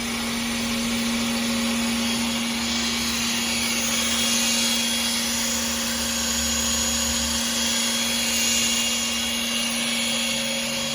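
A Famag drill rig bores through wood with a power drill, giving a continuous, steady whining hum with a constant tone that stays loud and unchanging throughout, with no talk.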